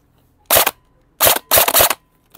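A Lancer Tactical G2 airsoft rifle fires through a chronograph, first one sharp close shot, then a quick pair of snappy shots, with quiet gaps between.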